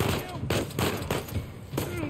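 Gunfire in the video game Uncharted 4: A Thief's End, with bursts of rapid shots repeating every half second or so, moderately loud under steady game ambience.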